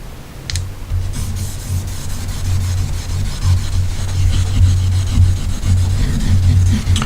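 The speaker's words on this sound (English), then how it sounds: "What I'm doing right now is actually using one of the Fingerstones to raise up a very faint slurry." A fingerstone rubs back and forth on a single bevel kitchen knife to raise a faint slurry during polishing toward a kasumi finish, making a steady close scraping rasp with a low, continuous grinding texture.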